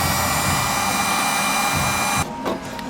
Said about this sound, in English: I'm thinking about kind of maybe hitting it with the heat gun some more